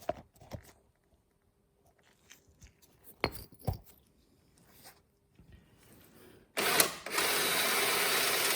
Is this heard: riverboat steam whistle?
no